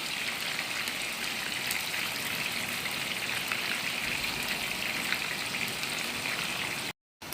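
Beef koftas fry in a pan with a steady, even sizzle, a dense crackling hiss that holds at a constant level and cuts out briefly near the end.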